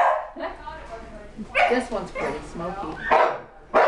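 Beagle puppy giving several short, high yips and barks up close, mixed with a person speaking briefly between them.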